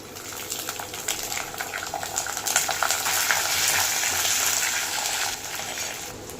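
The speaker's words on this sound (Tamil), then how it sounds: "ஒரு கை நிறைய கருவேப்பிலை மூணு வரமிளகா நல்லா சேர்த்து பொன்னிடமாக வதக்கிக்கலாம்" Curry leaves, dried red chillies, fenugreek and garlic sauté in hot oil, a close, continuous sizzle with crackling pops that swells louder midway, no talking.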